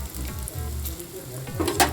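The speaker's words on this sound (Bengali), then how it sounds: "পেঁয়াজটা একটুখানি ব্রাউন হয়ে গেছে" Onions sizzle and fry in hot oil for an egg masala curry, a steady crackling hiss with soft stirring scrapes, close and fairly loud, with no talk over it.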